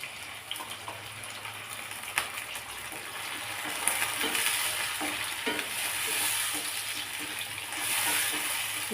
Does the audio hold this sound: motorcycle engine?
no